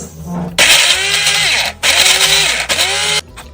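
A kitchen blender whirs loudly in two long bursts separated by a brief pause, blending kimchi paste with fish oil and fish sauce, its motor pitch shifting as it runs, then cuts off.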